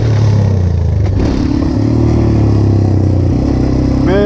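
A Yamaha Raptor 250 quad revs hard during a wheelie in a small parking lot, engine roaring loudly and steadily, with a rising rev sweep near the end.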